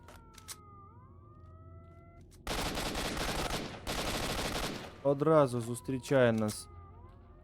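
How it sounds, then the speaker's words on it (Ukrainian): In STALKER: Shadow of Chornobyl, a distant wailing siren rises and falls faintly while bursts of gunfire crackle and someone talks over the game. "Сирена тут продовжує в нас вити."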